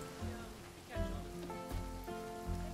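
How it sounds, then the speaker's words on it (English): Rain falling in the zoo-building video game Planet Zoo, a soft, steady patter of drops on surfaces with a few louder splashes, faint and alone. "Now that the rain is coming"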